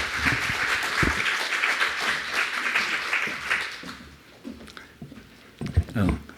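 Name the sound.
congregation applauding in welcome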